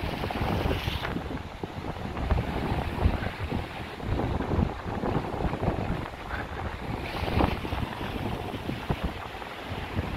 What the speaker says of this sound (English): And that wind's just a bit nipping now.